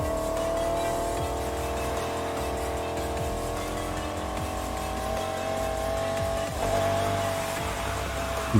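A car drifts sideways in the racing game Need for Speed Heat, its engine droning loud and steady with a faint tire squeal underneath and a brief revving surge near the end.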